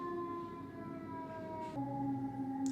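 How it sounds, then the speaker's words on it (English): An emergency siren sounding outside, heard indoors as a steady wailing tone that shifts pitch partway through, at moderate distance and with no talking. "I got distracted by like a siren outside"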